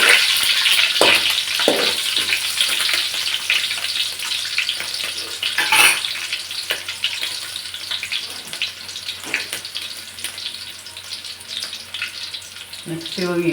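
Green chillies sizzle and crackle steadily in hot oil in a pan while cooking vangibath, with a constant frying hiss and a few sharper pops and stirring clatters near the start and middle.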